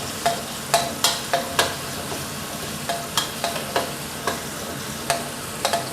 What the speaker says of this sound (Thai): เครื่องผัดนะครับ ที่เราโขกเอาไว้นะครับ ผัดกับไฟอ่อนไปก่อนนะครับ